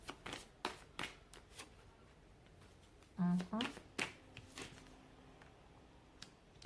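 A tarot deck is handled and shuffled close up in quiet bursts of soft card flicks and riffles, with a faint voice murmuring in the background.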